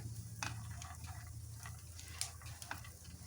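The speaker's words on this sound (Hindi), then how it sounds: "देखिए इसमें से चट चट की आवाज़ आ रही है" Small dry crackles and pops from seeds dry-roasting in a hot pan, irregular and sparse over a low steady hum.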